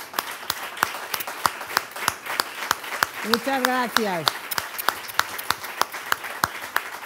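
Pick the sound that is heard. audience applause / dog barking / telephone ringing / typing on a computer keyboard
audience applause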